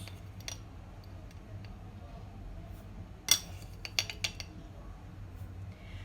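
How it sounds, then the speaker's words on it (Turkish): A tablespoon scoops instant granulated coffee into a glass, giving a few quiet metallic clinks and light taps close by, mostly in the second half, over a faint steady background hum. "Bir tane yemek kaşığımızı aldık ve kaşığı granül kahvemizi koyuyoruz."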